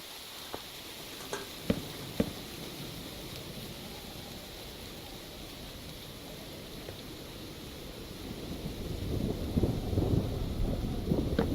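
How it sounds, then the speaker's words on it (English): Video game thunder: distant rumbles low and faint, swelling into a deeper, louder roll near the end, with a few scattered clicks early on. "Oh, thunder."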